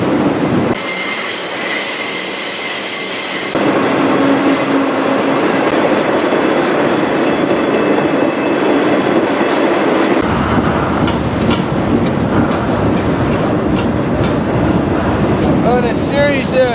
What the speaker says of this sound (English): this train is now going to Sioux City, Iowa